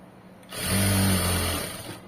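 A sewing machine runs a short burst of stitching along a fabric tuck, with a quick whirring hum that rises, holds for about a second, and fades, close by with no talk.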